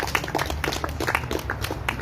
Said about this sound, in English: And I'd like to thank David, and a big round of applause.